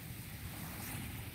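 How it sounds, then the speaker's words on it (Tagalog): Strong monsoon wind gusting during a typhoon, a loud, steady roar with heavy rumbling buffeting on the microphone, continuous until it cuts off abruptly. "Hampas po ng hangin."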